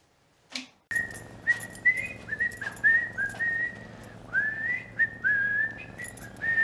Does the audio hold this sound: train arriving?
no